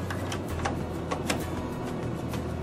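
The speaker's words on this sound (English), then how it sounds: "you will install the cleaning cassette simply into the printer" A cleaning cassette is fitted into a Zebra ZXP Series 8 retransfer card printer, giving a run of light plastic clicks and ticks over a steady, close-up background hum.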